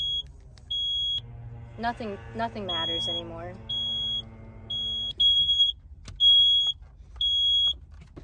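A smoke alarm in a van beeps repeatedly while breakfast is cooked on the road, sharp evenly spaced high tones sounding close and loud, with people talking and exclaiming over the first few seconds.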